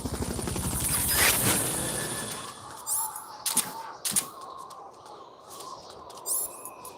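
A Fulton recovery helicopter in the video game Metal Gear Solid: Peace Walker, a whirring, pulsing rotor drone that builds and then fades, followed by several short, sharp game effects and chirps.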